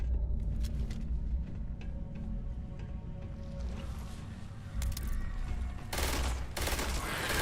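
Gunfire from a gun in the space game Starfield: rapid bursts of shots cracking over a rumbling background, moderately loud, with a sharper flurry of shots near the end.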